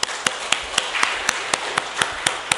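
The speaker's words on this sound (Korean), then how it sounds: "늘 수고하시는 우리 친교부 한번 박수 한번 드릴까요?" A church congregation claps for the fellowship team in a rhythmic, evenly spaced run of about eleven sharp claps, fairly close, with no talking.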